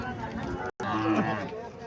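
A cow moos with a long, low call, close by at a wholesale cattle market, with faint background chatter around it.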